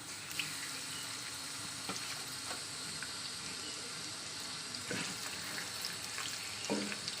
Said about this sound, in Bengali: চলুন মাছটা ভাজা করে নিই এক মাছগুলো সব দিয়ে দিই